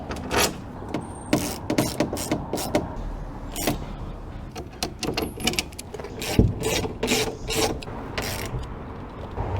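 Metal bolts being fastened through a lightbox leaned against a light pole, producing steady ratcheting, clicking and scraping with sharp irregular knocks throughout, close and fairly loud.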